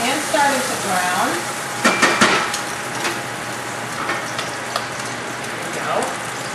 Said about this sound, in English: Now that my bacon is starting to render and starting to brown